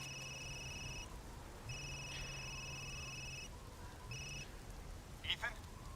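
Telephone ringing in the video game Resident Evil Village, three repeated electronic rings with short pauses between them, set against a quiet ambient hum, followed by a brief clatter near the end.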